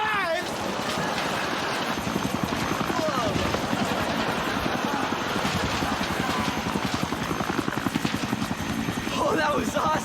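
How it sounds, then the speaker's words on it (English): A helicopter comes in to land close overhead in a sitcom scene, its rotor thumping in a rapid steady beat throughout, loud and near, with brief bits of other noise. "the helicopter's gonna land right on us"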